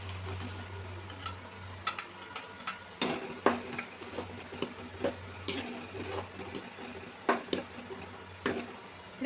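Blended tomatoes go into a pan of sautéed onions for spicy noodles, with a low sizzle under repeated sharp spoon taps and scrapes against the pan at an uneven pace.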